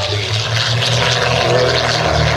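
A de Havilland DH 88 Comet propeller aircraft flies a missed approach, its engines droning loud and close with a steady harmonic buzz that holds throughout.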